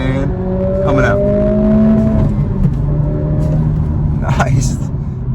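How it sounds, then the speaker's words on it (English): A 2023 Acura Integra A-Spec engine blipping and rising in pitch as it rev-matches on downshifts, loud from inside the cabin, with someone talking over the engine note. "this thing does have rev matching"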